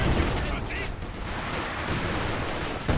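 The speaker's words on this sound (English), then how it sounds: "Gotta be careful with the scatter from the SU-76 barrage." An SU-76 artillery barrage in Company of Heroes 2 rumbles with heavy, overlapping booms and blasts under game noise, while a voice talks over the shelling.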